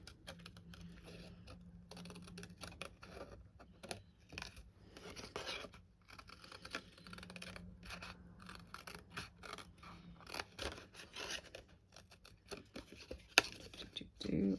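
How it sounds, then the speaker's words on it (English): Small scissors fussy cutting a paper shape for a handmade card: quiet, intermittent snips and paper rustles in irregular bursts, close but faint, with no voice. "So it's quite easy to fussy cut this sort of shape actually."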